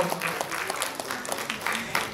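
An indoor audience at an in-house cultural program claps after a dance performance, a steady patter of many hands that is fairly faint and continuous throughout.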